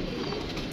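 A brief burst of pigeons cooing close by, soft and low amid a muffled background.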